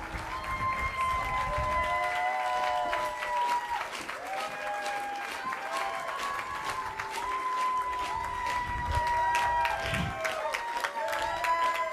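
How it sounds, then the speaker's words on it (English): An audience applauds and cheers steadily for the Miami-Dade County Mayor at a Say Gay rally. The dense clapping holds for about twelve seconds, with whistles and voices cheering through it, and a few people talk underneath. "give him another big round of applause"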